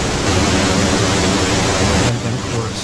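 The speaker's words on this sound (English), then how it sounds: "So it's going to be pink noise" Loud, steady pink noise plays as an audio test signal, a dense, even hiss spanning all pitches without a break and dipping slightly near the end.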